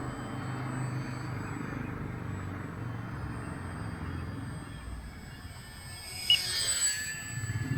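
A faint, steady whine of an E-Flite Draco RC model airplane's small electric motor drones at a distance as it flies, rising briefly near the end.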